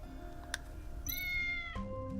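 A cat character in the video game Tales of the Neon Sea meows, one drawn-out synthetic meow rising and then falling, heard alone over a low hum of game background.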